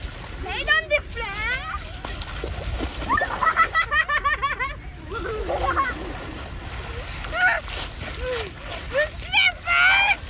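Feet run through shallow water, throwing up repeated bursts of splashing at an uneven pace, while children's voices chatter and shout loudly over the top.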